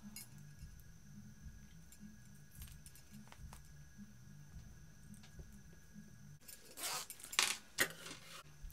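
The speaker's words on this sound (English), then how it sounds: "So the first thing that we want to do is install our zipper pull." A metal zipper pull being fitted onto a bag zipper while sewing, faint scattered clicks giving way to a brief burst of jingling metal clinks near the end.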